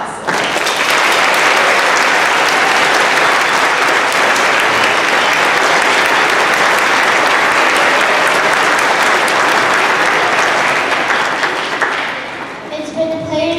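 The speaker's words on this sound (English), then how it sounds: "Let's give all our musicians, band and orchestra alike, one more big round of applause." A large school concert audience giving band and orchestra musicians a big, sustained round of applause, loud dense clapping that carries on for over ten seconds before tapering off as a voice begins.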